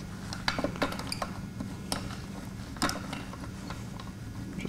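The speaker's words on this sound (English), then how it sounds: "Slide the bolt up as well as the rear clamp. Loosen that up a little bit" Faint metallic clicks and small rattles from a bolt and rear clamp on an Inno roof bike rack being slid and loosened on a 2006 Toyota Prius, scattered irregular taps over low background hum.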